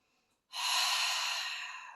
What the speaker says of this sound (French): Prends une autre respiration.